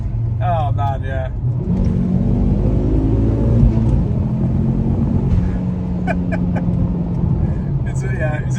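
A tuned Ford Focus ST pulls hard under boost in fifth gear, its engine note a steady, loud rumble that rises gradually. People talk inside the car over it.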